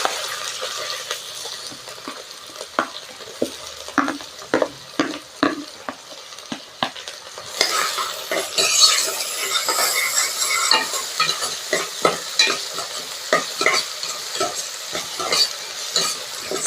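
Shallots and curry leaves sautéing in oil for a mutton curry, with steady stirring scrapes and clacks over a sizzle that swells louder and busier partway through, close and without talk.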